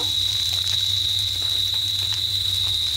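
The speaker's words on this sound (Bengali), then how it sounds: "এটা হালকা একটু ভেজে দেবো।" Spices frying lightly in a pan make a steady, close crackle and fine sizzle with a thin high hiss that continues throughout.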